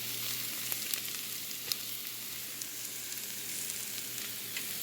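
Broken egg yolks and potatoes fry together in a skillet for huevos rancheros, giving off a steady, close sizzle. Small pops and crackles come through now and then, and no voices are heard.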